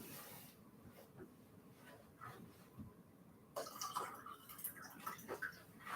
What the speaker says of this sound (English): Then I just add a little bit of filtered water to it.